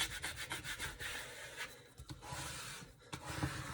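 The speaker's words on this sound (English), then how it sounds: "the transfer tape on top, and I'm just going to squeegee it again" Very quiet repeated rubbing strokes of a squeegee pressing transfer tape over vinyl on a wood board, giving a dry scraping rhythm of short passes.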